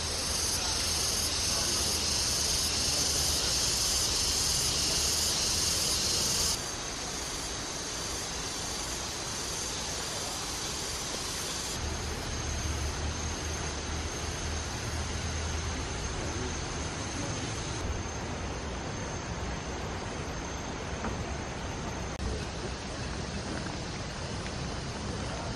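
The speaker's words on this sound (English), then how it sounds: "I'm just going to keep quiet for 30 seconds or so, just so that you can hear the background noise." Constant forest ambience in Ubud, Bali, amid tall teak and mahogany trees: a dense, steady hiss of insects and crickets with high buzzing layers that shift in intensity, heard without talk.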